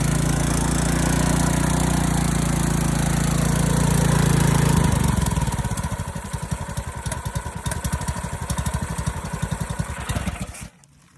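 Newly rebuilt motorcycle engine fires up on one pull, roaring loudly at first, then settling into a rough, rapid chuffing idle before cutting off abruptly near the end.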